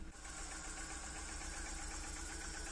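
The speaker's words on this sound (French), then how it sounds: "j'ai débranché la première bougie et le moteur il tourne toujours pareil" A BMW E36 petrol engine idles with one spark plug lead disconnected, a steady, close mechanical hum with a faint rhythmic ticking throughout and no voices.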